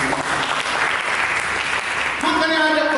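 A church congregation applauds during a sermon with steady, dense clapping throughout, and sustained musical tones join toward the end.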